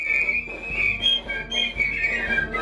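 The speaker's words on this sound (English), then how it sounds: "Performed this time simultaneously by 94 piccolo players" A piccolo solo played at once by 94 piccolo players, a bright, piercing massed whistle-like melody with wavering pitch, fairly loud and steady, heard alone without talk.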